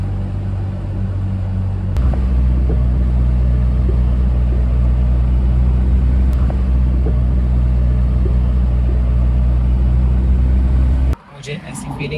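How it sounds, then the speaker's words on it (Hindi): Steady low rumble and road noise from a car driving a rough mountain route near Leh, with a continuous hum that could include tyre noise; the sound stays loud and even, then drops abruptly near the end. "टायर फिर से आवाज़ करने लग गया है।"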